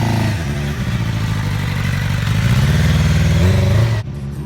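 A 2011 Suzuki 750 motorcycle engine revs loudly up close, rising and falling through several throttle surges as it pulls away, before cutting sharply to a quieter idle.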